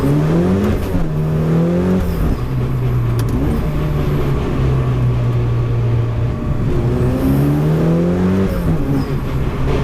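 A Dallara Stradale supercar engine drives close by, loud and steady the whole time, its harmonic pitch rising and falling as the revs climb and drop through gear changes.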